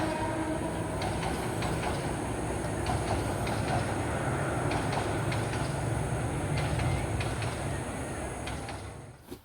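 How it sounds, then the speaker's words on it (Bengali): A train rolls past right beside a house, a loud steady rumble with rhythmic clickety-clack of wheels over rail joints, fading slightly near the end, no talking. "আমাদের বাসার পাশে ট্রেন যাচ্ছে যে"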